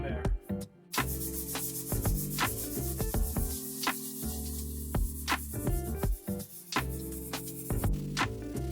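Hand sanding around a steel beer keg being made into a propane grill, with repeated rasping strokes that scrape in uneven rhythm and occasional short pauses, heard close and fairly loud.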